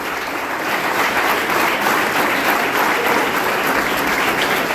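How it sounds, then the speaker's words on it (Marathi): Sustained, dense applause from a crowd cheering a team at the SuperX 2025 Java project competition, steady and loud throughout with no talking over it. "जोरदार टाळ्या झाल्या पाहिजे यांच्यासाठी"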